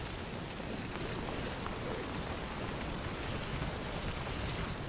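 Steady, dense rainfall in Death Stranding, a constant hiss that runs evenly throughout without pauses or voices.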